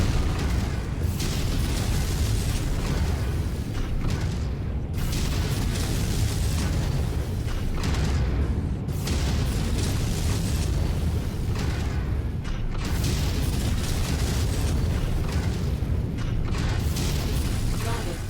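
A mech being destroyed in the MechWarrior 5 video game, a loud, sustained wall of explosive booms and rumbling blasts that pulse in heavy waves over several seconds, with no talking.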